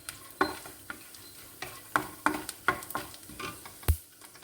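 Ingredients frying in ghee in a pan for an instant health-mix laddu, with repeated stirring scrapes and soft sizzling in close, uneven strokes, heard alone.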